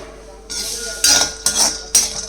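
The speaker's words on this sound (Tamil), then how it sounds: "இது கொஞ்சம் அரைக்கிறதுக்கு பதமாக வர்றதுக்காக நான் இதை இப்போ சாட்டே பண்ணிக்கிறேன்" Peanuts sautéed in a pan for a podi powder premix, stirred in three or four quick strokes that give bursts of rattling, scraping clinks over a low steady background.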